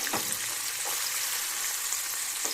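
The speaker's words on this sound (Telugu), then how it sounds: "ఇప్పుడు ఈ ఆయిల్లో పోపు దినుసులు అయితే వేస్తున్నానండి" Tempering spices, red chillies and onions fry in hot oil, a steady close bright sizzle with a few scraping stirs as the pan is worked.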